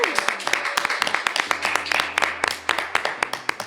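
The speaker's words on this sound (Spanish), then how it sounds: "Fuerte el aplauso para Camarín 90." Studio audience applauding on a Chilean football talk show, with sharp scattered claps over a steady hum and some music.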